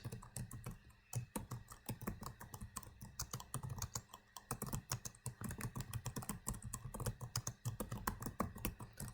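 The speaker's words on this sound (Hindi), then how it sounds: "यहाँ पर आप अपना कोड टाइप कर सकते हो, जैसे कि मैं लिख रहा हूँ सिंपली प्रिंट" Rapid, irregular clatter of keys as code is typed on a computer keyboard, steady and close throughout with no talking.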